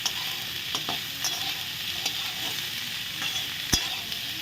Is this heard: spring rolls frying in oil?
yes